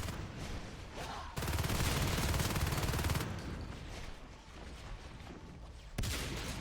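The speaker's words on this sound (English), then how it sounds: "a lot of Marines coming out of these gates with shotguns" Marines with shotguns fire in a StarCraft tournament match, producing dense bursts of rapid gunfire and explosive battle noise that come and go in loud, sustained waves close up.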